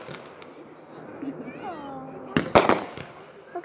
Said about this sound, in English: It's like explosions in the air, guys.